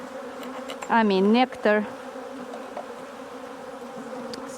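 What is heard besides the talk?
honeybees buzzing around a hive frame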